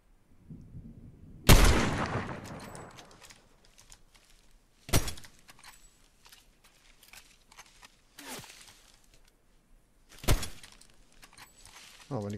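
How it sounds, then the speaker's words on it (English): Sniper rifle shots in a video game: three single heavy cracks spaced several seconds apart, each with a lingering echoing tail over quiet background game noise. "Little sniper battle, yeah?"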